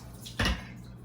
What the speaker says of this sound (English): drain these. I'm trying to just push some of the water out.